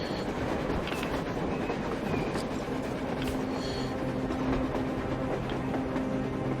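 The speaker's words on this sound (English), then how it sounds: "A train! A damn train on the surface!" A train rolls along the surface in the video game Metro Exodus, its steady rumbling wheel noise and faint clatter filling the scene continuously at moderate volume, with low humming tones underneath and no voices.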